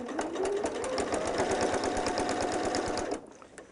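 Sewing machine stitching through quilt fabric, a fast steady rhythmic chatter of the needle running continuously and close, then stopping abruptly near the end.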